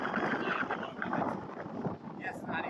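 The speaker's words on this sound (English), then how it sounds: "the wind is picking up" Wind gusting across an open sports oval at an American football game, a rough, buffeting roar of wind on the microphone that rises and falls continuously and loudly, with no clear voices.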